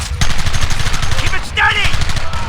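Rapid machine-gun and rifle fire from a battle in the video game Red Dead Redemption, loud and dense over the whole span, with shouted voices mixed into the din.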